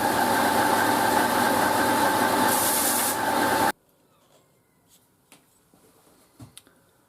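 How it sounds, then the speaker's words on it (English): A belt sander runs loud and steady as full-tang knife handle scales are laid flat on it to take the burrs off, then it cuts out abruptly, leaving near silence with a few faint clicks and knocks. "I'm going to put them flat on my belt sander just to take all the burrs off."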